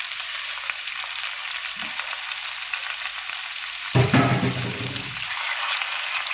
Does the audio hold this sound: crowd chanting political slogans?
no